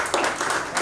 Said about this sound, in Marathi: त्यामुळे तुमच्यासाठी पण टाळ्या होऊन आनंद जोरात.